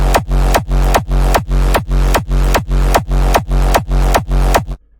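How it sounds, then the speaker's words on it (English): A hardstyle electronic kick drum thumping about ten times in a steady, even rhythm, each hit deep and booming with a long sustained tail. "while playing the kick, I will bypass it"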